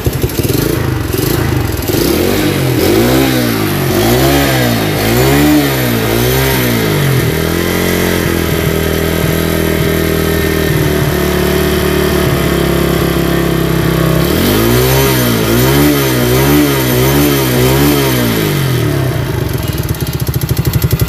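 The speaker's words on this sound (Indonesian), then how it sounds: "Ketika digas tinggi, kemeleteknya hilang ya." A Yamaha Vega RR motorcycle engine with a knocking fault is revved repeatedly nearby, loud rising and falling blips with steady idle between, a rattling clatter running throughout.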